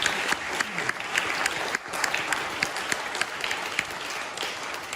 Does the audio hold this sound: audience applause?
yes